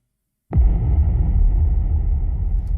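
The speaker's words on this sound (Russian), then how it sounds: "Вот это мой бум, а это из какой-то библиотеки." Silence, then a single deep boom sound effect for an aggressive dubstep trailer hits suddenly and settles into a long, heavy rumbling tail that fades slowly.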